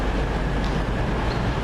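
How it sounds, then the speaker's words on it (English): A train pulling into a station on a rail journey in Scotland, a low, steady rumble with broadband rolling noise that holds at an even level throughout, with no voices over it. "Just now pulling in our train"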